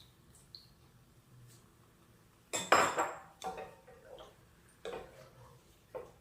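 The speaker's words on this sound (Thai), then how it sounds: "จะจะเติมน้ำเปล่าลงไปนิดนึงนะคะ" Water poured into a hot pan of stir-frying beef makes a sudden loud hiss that dies away in a few seconds, followed by scattered clinks of a utensil against the pan in a quiet kitchen.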